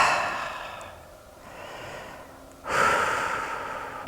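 Slow, deep breaths are taken while holding a yoga side-plank variation: a long soft exhale fades out, then a fuller, louder breath swells in near the end, close and with no talking.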